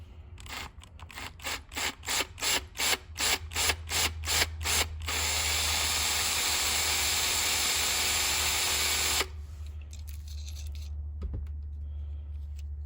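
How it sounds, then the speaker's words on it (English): A small power drill whirs in a dozen short, rhythmic bursts into a Hot Wheels toy car, then runs continuously for several seconds before stopping, close up. "so we're gonna drill it a little bit more"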